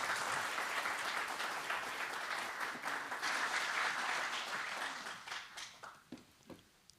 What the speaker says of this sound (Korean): 위원장님께도 큰 박수 부탁드립니다